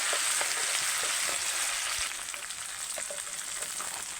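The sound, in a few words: onion and garlic-ginger-chilli paste frying in oil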